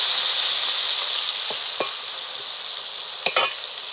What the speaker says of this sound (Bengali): বেগুনগুলোকে একটু ভালো করে ভেজে নেব।